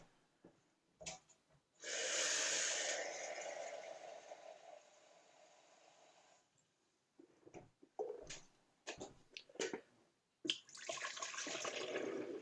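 Water running into a cup from a tap, a steady hissing stream lasting a few seconds, followed by scattered clinks and handling knocks and then another stretch of running water.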